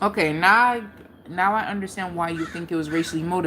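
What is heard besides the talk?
No everyday noises stand out.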